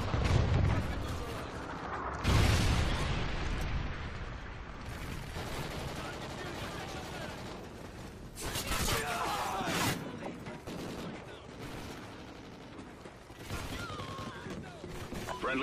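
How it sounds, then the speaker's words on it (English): Trinity rocket strike detonating in a video game, heavy booming blasts and rumbling gunfire-like explosions rolling on through the clip, loud and dense, with game voice lines partly over the din. "Friendly Trinity rocket inbound."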